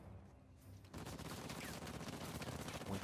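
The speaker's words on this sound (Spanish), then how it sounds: "La intensidad que da también un tanque con un disparo continuo." A tank firing continuously in Uncharted: Lost Legacy, a burst of rapid, rattling gunfire and explosive bangs kicking in after a brief quieter moment, dense and sustained at low overall volume.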